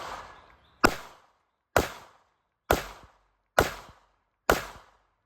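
Five evenly spaced, loud, close shots from an FN Reflex 9mm pistol crack out about a second apart, each with a sharp attack and brief echoing decay on an outdoor range.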